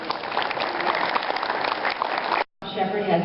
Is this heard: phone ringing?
no